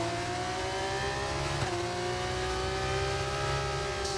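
F2 race car engines in the F1 24 video game, a steady high-pitched whine of several cars running close together at speed, continuous and loud with no pauses.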